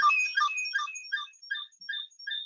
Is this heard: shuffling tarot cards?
no